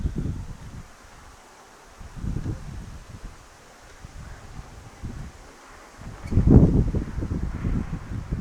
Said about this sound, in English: Maybe even little Luke Bryan kick the dust up as the wind picks up